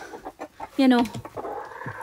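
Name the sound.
chickens clucking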